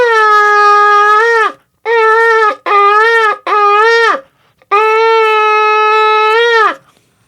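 A shofar sounds a long steady tkiyah, then three short broken shvarim blasts, then another long tkiyah held about as long as the shvarim group, loud and close with no talking.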